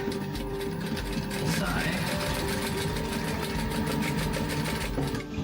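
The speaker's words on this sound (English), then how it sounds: "I'm just going to sew over this tab one more time" A sewing machine runs steadily, sewing back over a fabric tab on a Kraken coffin-shaped glasses case, with a close, continuous rhythmic whir and a voice speaking briefly over it.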